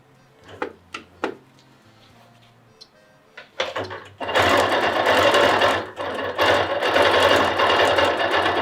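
A few short clicks and taps, then a sewing machine starts up and runs steadily, stitching a line on a quilt, loud and close with a brief pause midway.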